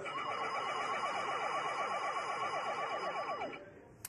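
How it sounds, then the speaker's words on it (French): An electronic danger-zone alarm, set off when a person enters a camera-monitored area, wails with a fast rising-and-falling siren tone, loud and steady for about three and a half seconds before cutting off. "Et dès qu'il rentre dedans, on déclenche une alarme."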